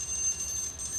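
A short timer alarm rings as a faint, steady high-pitched electronic tone, held briefly and alone.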